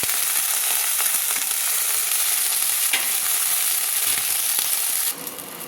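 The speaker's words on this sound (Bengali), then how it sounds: "একটা চামচ দিয়ে আমি তুলে নিচ্ছি।" Cauliflower pieces fry in hot oil with a steady, loud crackling sizzle as a spoon stirs and lifts them out. The hiss stays even throughout, then drops off sharply near the end.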